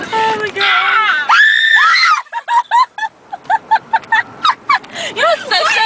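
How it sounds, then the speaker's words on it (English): People scream in bursts, a long shrill shriek followed by a run of short, choppy yelps and cries, loud and close. "Why do we scream? I don't know. I get scared."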